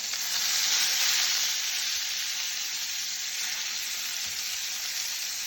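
Pork chops sizzle steadily in a hot pan just after being turned, a dense bright crackle that swells briefly early on and then holds even, close and alone with no talk.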